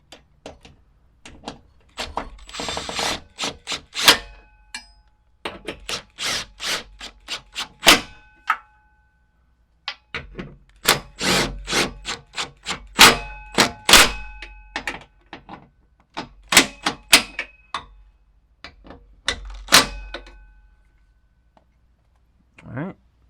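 A ratchet tightens bolts while a skid plate goes back onto a diesel Jeep Wrangler. Sharp clicking bursts come in scattered, irregular runs, close by, separated by quiet gaps and occasional knocks.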